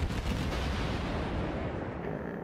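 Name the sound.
cruiser main guns firing in World of Warships video game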